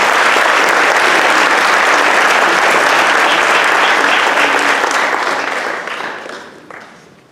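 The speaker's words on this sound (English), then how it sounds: "So will we please give our recipients a round of applause?" Loud, dense audience applause in an auditorium for scholarship recipients at a conference, a continuous roar of many hands clapping that holds steady, then tapers off and fades at the end.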